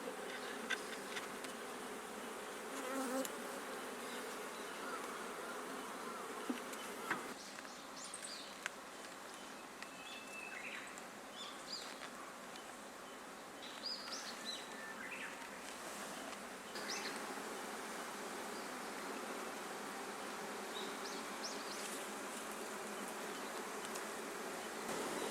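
Honeybees buzz around an open hive on abandoned land on Ōmishima, Japan, a steady close drone with individual bees zipping past and a few faint knocks, continuous throughout with no talking.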